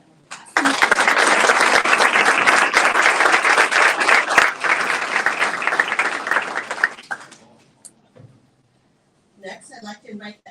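An audience at a school board meeting breaks into loud, sustained applause lasting about seven seconds before tapering off, followed by brief speech.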